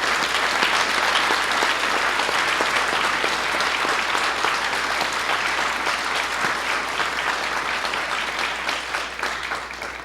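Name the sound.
audience applause for honorees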